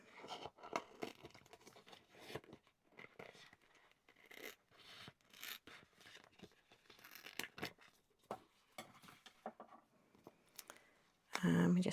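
Scissors cut around a UV DTF transfer design in a stretch of close, irregular snipping and crinkling of the film, with a louder rustle near the end.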